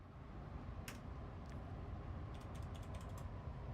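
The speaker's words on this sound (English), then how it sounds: "I'm reaching over for my keyboard" Computer keyboard keys click in a few sparse taps, then a quicker cluster of light keystrokes, faint against a steady low hum.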